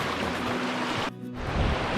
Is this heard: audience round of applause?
no